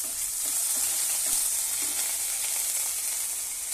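Beans, green peas and carrot sizzle steadily in hot oil for a ragi and vegetable soup, a dense continuous hiss with faint stirring scrapes, close and moderately loud, no voices.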